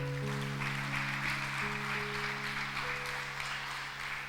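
A church congregation claps in a steady wash of applause beneath sustained organ or keyboard chords, moderately quiet and continuous.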